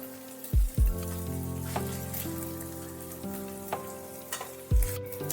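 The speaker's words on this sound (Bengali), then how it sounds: "পোস্ত যখন এইভাবে লাল লাল একটু হয়ে যাবে ভাজা" Poppy seeds frying in a karahi over a low simmer flame, a steady soft sizzle running throughout, broken by a few louder knocks and clatters near the start and end, with no talking.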